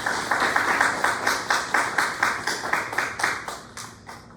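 A church youth group audience claps in a steady, rhythmic unison beat at moderate volume, the claps fading slightly toward the end.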